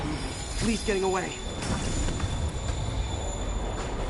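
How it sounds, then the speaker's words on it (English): A train rumbles along in the Spider-Man video game, a low rolling rail clatter with faint wheel squeal, heard beneath brief voiced dialogue near the start. "Train moving."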